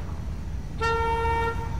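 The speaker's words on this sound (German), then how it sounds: "Nummer eins hupt." A car horn in GTA 5 sounds one steady honk of under a second, bright and tonal, breaking out of a low rumbling background.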